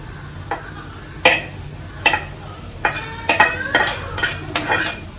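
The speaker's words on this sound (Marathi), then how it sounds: "आता आपल्याला करायचं त्याच्यामध्ये मिक्स छान असं ते एकजीव करून घ्यायचं" A spoon scrapes and clinks through cooked rice and fresh coriander in a pan, the strokes landing nearby in an uneven rhythm of about ten sharp knocks, with a light sizzle underneath and no voices.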